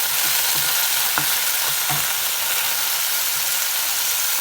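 Vegetables with soy sauce sizzling in a hot pan for momo filling, a steady close frying hiss with a few soft clicks of stirring.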